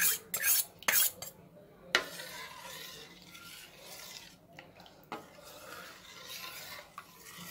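Metal utensil scraping and clinking around a bowl as batter is stirred, with a few sharp taps at the start, then steady swirling rasps close by.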